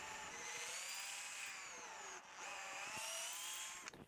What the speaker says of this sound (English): I can now drill it to the correct diameter.